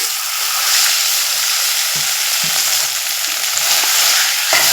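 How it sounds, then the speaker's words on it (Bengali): Potato filling with crushed cashews sizzles loudly in a pan, a dense, constant frying hiss up close with occasional soft stirring scrapes and no speech. "এখন আমি শুধু একটু নাড়াচাড়া করে এই পুরটা রান্না করে নেব"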